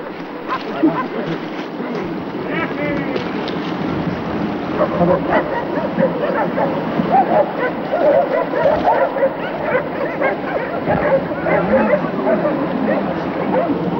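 A pack of hunting dogs in Santa Cruz, Patagonia barks excitedly in overlapping yelps and bow-wows, steady throughout, with outdoor ambience and some voices mixed in.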